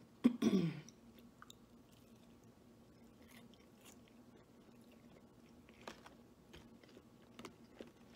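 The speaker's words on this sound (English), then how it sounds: "That's really crispy and crunchy." Someone biting into a crispy, crunchy piece of Culver's fast food: one sharp, close crunch right at the start, followed by faint, soft chewing and occasional small clicks in a quiet room.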